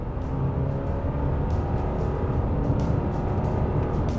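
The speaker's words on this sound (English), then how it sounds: "all I hear is droning and loud CVT noises" A 2022 Subaru Forester with a CVT accelerates, giving a steady, monotonous engine drone that holds a constant pitch with some road noise in the cabin.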